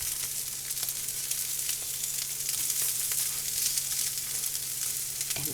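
Tuna patties fry in a pan with a continuous close crackling sizzle and scattered small pops, steady and moderately quiet, with no voices.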